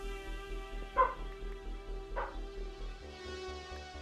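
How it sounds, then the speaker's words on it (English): A dog barks indoors during a live Minecraft stream, two sharp barks about a second apart over a steady background hum, with a low whimpering tone between them. "My dog has been barking nonstop for like 10 minutes"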